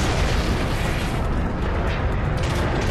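Cannon fire in the video game Transformers: Fall of Cybertron, a continuous loud roar of booming blasts and rumbling explosions with mechanical clatter, no pauses across the stretch.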